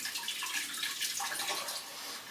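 Tap water running from a kitchen sink into a pan used for American goulash broth, a steady broadband rush and splash heard up close without talk.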